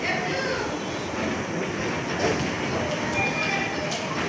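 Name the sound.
local commuter train passing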